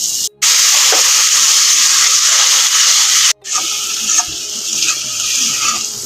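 Water poured into a hot pan of cooked-down dried fish chutney, giving a loud, close, hissing sizzle that cuts in abruptly, holds steady, then settles into softer bubbling and crackling, with no talking.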